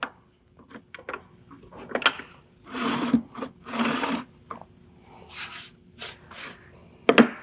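A router table fence being slid and shifted out of the way, a series of short wooden knocks, scrapes and rubbing sounds, close and moderately loud, with quiet gaps between them.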